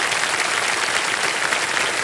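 A KBC studio audience gives steady, dense applause throughout, loud and close, with no voices over it.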